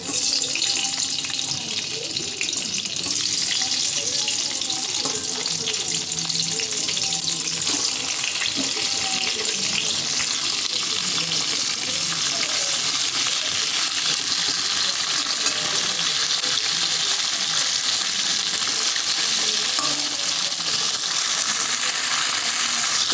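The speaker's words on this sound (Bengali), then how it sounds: "এবার ওই একই তেলে সিমগুলো ভেজে নেবো" Flat beans fry in hot oil in a pan, a steady sizzle lasting throughout with occasional stirring and faint kitchen clatter underneath.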